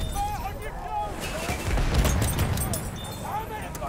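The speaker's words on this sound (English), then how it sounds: "That was a nice little strafe" Aircraft strafing gunfire in Battlefield 1 over Heligoland Bight, a loud burst of rapid shots and booms mixed with battle noise, with voices talking over it.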